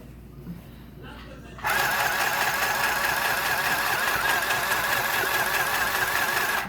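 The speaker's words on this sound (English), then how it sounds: "what I do is I just fold and sew" A sewing machine stitches folded fabric for a tote bag, a steady dense motor hum that starts abruptly after a quieter moment and runs continuously at close range.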